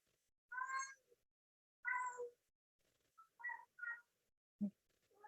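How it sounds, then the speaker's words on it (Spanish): A house cat meows several times in short, clear calls with quiet gaps between them, close and alone in an indoor room, with a few softer chirps near the end. "Es que mi gato está todo chillón."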